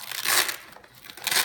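A sealed plastic sandbag being tugged and pried open, giving loud crinkling and crumpling plastic in bursts, close up, with a quieter pause in the middle.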